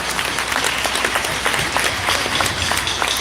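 Audience applause at a school band concert, a steady wash of many hands clapping throughout without a break, loud and close.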